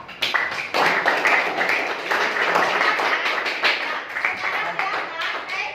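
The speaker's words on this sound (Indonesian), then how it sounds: "Tepuk tangan untuk kelompok." Students in a classroom give applause for a group, a brisk burst of many hands clapping that holds steady for several seconds with a voice underneath.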